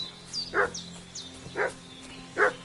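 A dog in the video game Kingdom Come: Deliverance barks three times at a moderate distance, short evenly spaced woofs over a quiet background with faint whistling tones between them.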